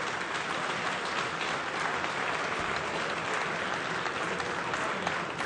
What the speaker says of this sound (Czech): potlesk pro vás